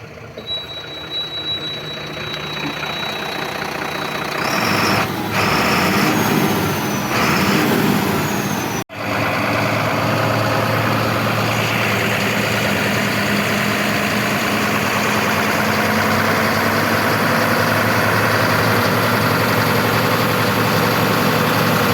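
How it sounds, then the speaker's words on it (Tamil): A BharatBenz 4828R 16-wheeler truck engine with a new lift axle turns over and settles into a steady, loud diesel idle after a brief beeping tone and a short drop, running on alone without talk. "இப்போது வண்டி ஸ்டார்ட் பண்ணி இன்ஜின்குள்ளே சவுண்ட் கேட்போம்"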